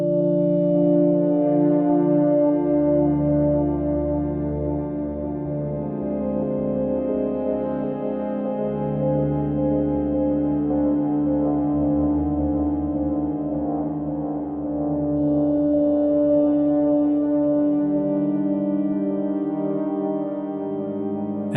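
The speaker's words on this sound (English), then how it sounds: "And that's Stepic, sequencing the Digitone." Sustained Elektron Digitone synth chords sequenced by the Stepic sequencer, a warm, thick drone of layered tones that shift gradually over time, loud and continuous with no voices.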